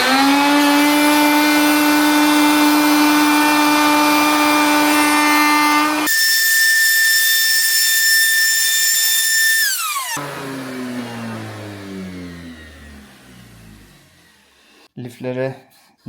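Router on a sled surfacing wood, a loud, steady high-pitched whine that cuts off and spins down, followed by clatter and handling noise near the end.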